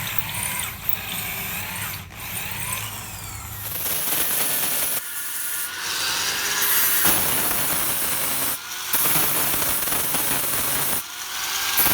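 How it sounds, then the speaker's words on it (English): Power drill boring an angled hole in bursts of grinding, whirring cuts separated by short pauses, loud and close, with no voices. "Here I'm tilting the drill a little so the hole has a bit of inward angle."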